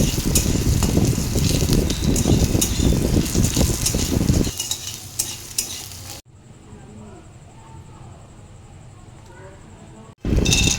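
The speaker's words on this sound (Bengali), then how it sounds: "কড়াইতে আবার তেল দেব। দেওয়ার পরে পনিরগুলোকে ছোটো ছোটো করে কেটে নিয়েছি, তো পনিরগুলোকে পনিরটাও ভেজে তুলে রাখবো।" Small pieces of paneer fry in oil in a wok, a loud close sizzle with stirring clatter that drops off midway into a quieter stretch, then returns briefly at the end.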